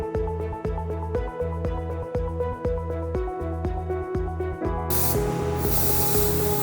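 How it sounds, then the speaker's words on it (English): A rhythmic piece of music plays, then a single sustained hiss of glue remover sprayed onto an iPhone screen cuts in near the end and continues over the beat. "And spray with the glue remover."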